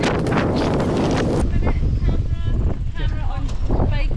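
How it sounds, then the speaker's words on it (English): Loud wind buffets the microphone in heavy rumbling gusts at a downhill mountain bike race, easing slightly after the first second while a voice speaks faintly underneath. "A bit windy now, that's for sure."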